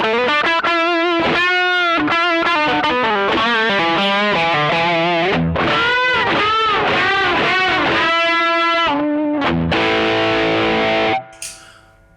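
Electric guitar lead played through a TC Electronic Nova Drive pedal with its Rat-style distortion and Tubescreamer-style overdrive stacked, sustained bent notes and fast runs ringing loud and alone, cutting off abruptly near the end.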